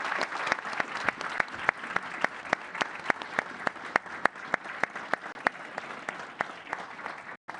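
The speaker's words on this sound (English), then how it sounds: "let's give him a round of applause and allow him to leave" Sustained audience applause at a press event with UK, Norwegian and Estonian leaders as the departing prime minister leaves, dense steady clapping from a sizable crowd with some sharper individual claps, loud and continuous throughout.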